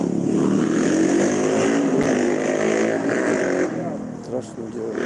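A motorcycle engine drones loudly and steadily for several seconds with a rough, throaty tone, then eases off, heard on a central street in Koktebel on the Black Sea coast during an evening stream.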